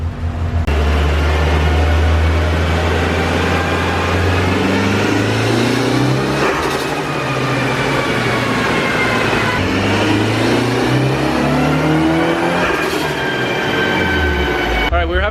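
A Mitsubishi Evo 5 runs on a Mustang chassis dyno, its engine a loud, steady drone that climbs and falls across several pulls with a roaring rush of noise.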